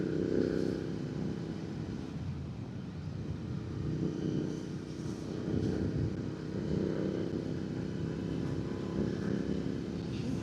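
A Royal Enfield Interceptor motorcycle cruises a highway at night, a continuous low engine drone with gentle swells in throttle and wind rush, steady and close.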